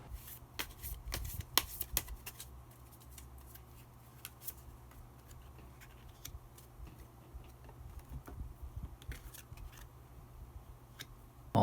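Tarot cards are shuffled and drawn close by, giving repeated crisp riffling bursts and soft slaps of cards against a quiet room, with a pause in the middle before more shuffling.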